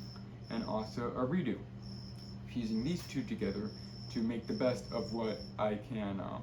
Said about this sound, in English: Now, if you hear crickets in the background